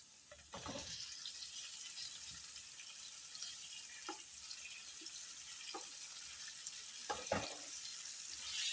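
Green beans are stirred into hot oil with onions in a pan, giving a soft, steady sizzle with a few sharp clicks and scrapes from utensils, quiet and close.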